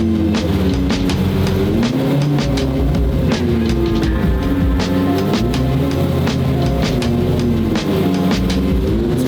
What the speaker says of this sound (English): car's so loud. Like I said earlier, even like just doing nothing right now, it's loud.